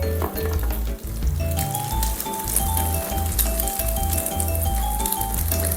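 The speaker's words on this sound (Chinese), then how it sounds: "下入去鼎内底，煎一下后，咱家放伫中央，哇，擦，代表这油有够热哦" Steady sizzling of food frying in hot oil, with occasional clinks of a utensil against the pan, continuous and fairly close.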